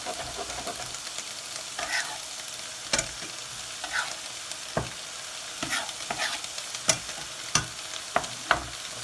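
Mushrooms sizzling in a pan for a vegan stifado, a steady fry with intermittent sharp scrapes and stirring knocks, close up and without talk.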